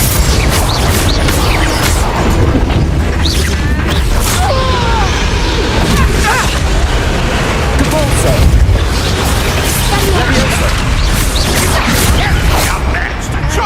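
A Bombarda explosion spell in Hogwarts Legacy booms amid a dense, continuous wash of magical blasts and game effects, loud and sustained throughout.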